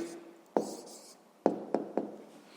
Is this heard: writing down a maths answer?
yes